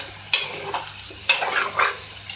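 Potato and egg bhujia spiced with turmeric sizzles steadily in a pan while a spoon stirs and scrapes through it in a few uneven strokes. The frying is close and clear, with no voices.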